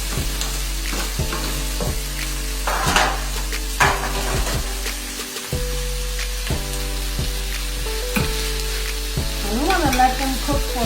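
Chopped green peppers sautéing in a pan, with a loud, steady close sizzle and occasional scraping stirs, and no talking.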